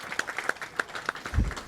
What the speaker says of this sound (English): a little round of applause for Rich